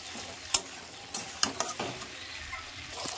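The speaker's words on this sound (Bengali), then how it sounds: "এবার আমি মশলাটা দিয়ে 2 থেকে 3 সেকেন্ডের জন্য নেড়ে চেড়ে নেব।" Spice paste is stirred in a pan for a koi fish curry, giving soft scraping strokes and a few sharp clicks of the spoon against the metal over a faint sizzle, close and fairly quiet.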